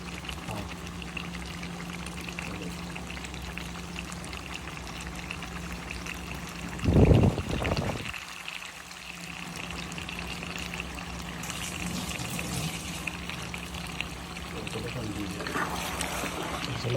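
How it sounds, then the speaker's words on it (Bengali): Broth water poured into a pan of cooking duck meat makes a short, loud splashing pour lasting about a second, set against a faint background hiss, with a person talking before and after. "ঝোলের পানি দিয়ে দেবেন।"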